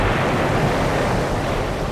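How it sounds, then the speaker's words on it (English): Floodwater bursting through the failed Teton Dam, a massive earthen dam breached while its reservoir was being filled, roars as a dense, unbroken rush of water, loud and steady throughout with no voices. "While it is being filled, the mighty Teton Dam bursts."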